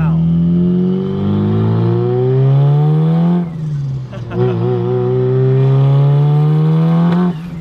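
A 500 hp Mitsubishi Evo fitted with a new ACT twin-disk six-puck clutch accelerates hard, its engine note climbing through a gear, dipping briefly at a shift, then rising again, loud and close from inside the car.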